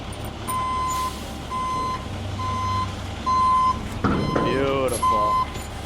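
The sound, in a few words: hook lift truck reversing with beeps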